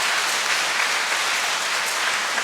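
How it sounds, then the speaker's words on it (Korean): A church audience at a Jeju Catholic parish's 50th-anniversary lecture applauds its elders aged 65 and over: dense, steady clapping that holds evenly throughout, with no voices over it. "이 형님과 누님들에게 박수 한번 쳐드립니다."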